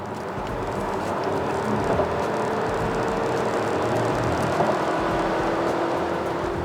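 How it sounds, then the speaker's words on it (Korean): A Volvo XC40 B4 mild-hybrid SUV speeds up in dynamic drive mode, its engine a steady broadband drone with road and wind noise heard from inside the cabin, with no talking. "차의 주행 모드를 다이나믹으로 바꾸고 속도를 한번 내볼게요"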